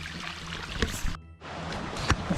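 A small fresh stream on the Appalachian Trail in Maryland rushes and trickles close by, a broad steady watery hiss with a brief sudden drop in sound partway through.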